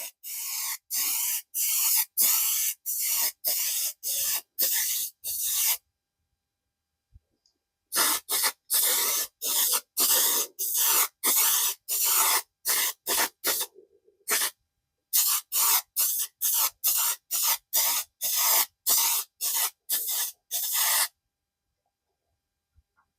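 An aerosol spray can hisses in a long series of short, sharp, loud bursts while a burst finish goes onto a flame maple Telecaster-style guitar body, with two brief pauses and no talking.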